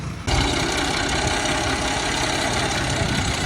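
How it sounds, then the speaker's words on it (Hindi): A Ford tractor engine idles steadily and close at a brick kiln, a constant loud chugging rumble after a brief quieter start, with no talking. "ये ट्रैक्टर आया है मेरे भट्ठे पे"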